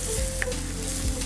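Chopped green chili and finely cut ginger sizzling steadily in a hot frying pan, a close, continuous crackling fry with a faint stir partway through and no voices.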